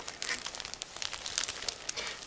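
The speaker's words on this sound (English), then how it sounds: "Now I'm going to open the second plastic bag." Crinkling and tearing of a thin plastic bag holding decals from an Eduard 1/72 Fokker model kit, quick irregular rustles close by and fairly quiet, with no talking.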